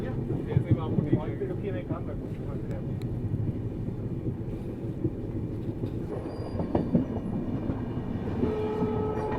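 Steady rumble of a moving Indian Railways passenger train in Jammu and Kashmir, with rattling carriage noise throughout and a voice talking over it.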